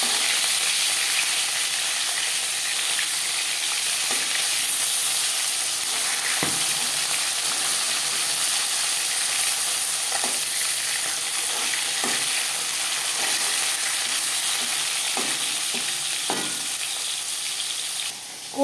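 Koi fish fry in hot oil with a loud, continuous, close sizzle, punctuated now and then by faint pops and light scrapes.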